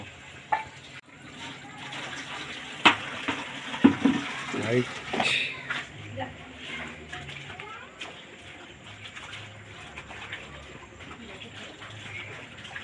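Water pours and splashes in short bursts near the start, with voices talking over it before it settles into a quieter trickle.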